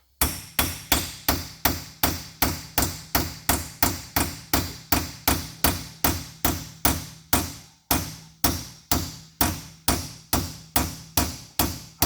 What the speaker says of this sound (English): I have more control with a hammer than I do with an air chisel